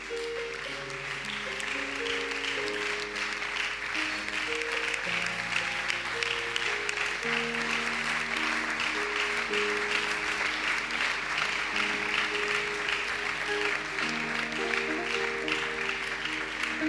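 A church audience applauds to welcome a pastor at a Christian entrepreneurs' fair, long sustained clapping that holds steady throughout, with organ-like keyboard chords sounding beneath it.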